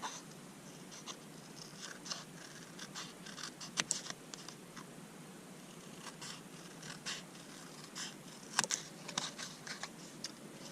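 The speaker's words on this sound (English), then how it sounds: "I'm going to cut along the embossed line edge there" A pair of snips cuts through heat-embossed paper card along an embossed line, giving faint, sparse crisp snips and small crunches in a quiet room.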